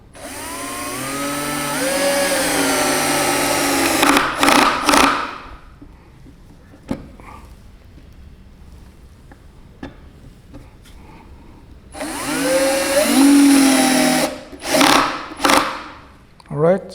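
A Bosch GSR 120 Li 12V cordless drill driver drives screws into wood in two bursts of whirring, each ending in ratcheting clicks as the torque clutch slips, close up and loud, with quieter handling noises in between.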